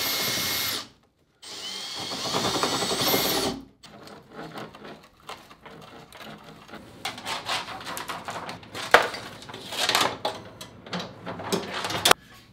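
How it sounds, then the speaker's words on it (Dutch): A power drill whirs in loud sustained bursts while fitting the motor and propeller to a homemade hovercraft, stopping briefly, then continues with irregular grinding and rattling as it bites into material. "Laten we gaan boren."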